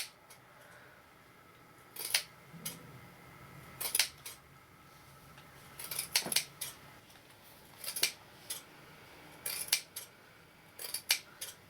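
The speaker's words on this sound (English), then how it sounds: "the next thing we're going to do is snip into it to make a fringe" Scissors snipping wool fabric into a fringe for a flower brooch, crisp close cuts coming singly and in quick clusters of two or three, separated by short quiet pauses.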